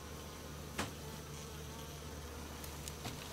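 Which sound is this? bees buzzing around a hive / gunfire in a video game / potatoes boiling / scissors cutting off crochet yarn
bees buzzing around a hive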